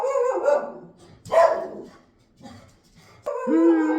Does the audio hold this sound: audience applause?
no